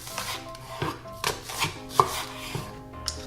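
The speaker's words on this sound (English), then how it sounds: "Cut the green onion about 2 inches long." A knife chops green onion into two-inch lengths on a cutting board for Korean spicy chicken stew: about eight crisp, evenly spaced thuds, close and clear with no voices.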